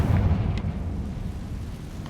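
A Confringo fire spell explodes in Hogwarts Legacy, a deep booming burst at the start that rolls off into a fading low rumble.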